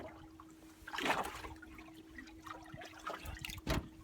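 Hands splash and slosh in freezing cold lake water while crappie fishing, with two distinct wet bursts separated by quieter trickling and drips, close and fairly loud.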